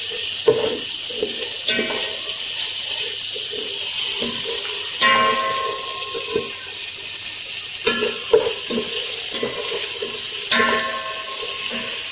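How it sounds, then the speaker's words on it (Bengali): Chicken biryani ingredients with ginger and garlic being stirred in a hot pot, a continuous close sizzle and frying hiss with repeated scraping strokes of a spoon at a steady rhythm. "এরপর সব কিছু নেড়ে নেবো"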